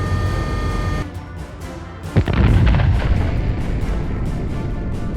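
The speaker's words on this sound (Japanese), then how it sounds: "この編隊を扶桑の電弾が捉え、距離2万メートルで主砲による砲撃が行われました" The main guns of the battleship Fuso fire as a sound effect, a heavy deep boom that rolls out into a long, rumbling, thunder-like decay.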